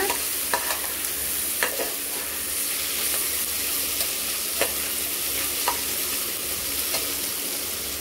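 Crushed masala sautéing in a pan for country chicken biryani: a steady close sizzle and hiss with occasional sharp scrapes and taps from stirring, no voices.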